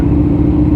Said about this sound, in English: That was a GT3.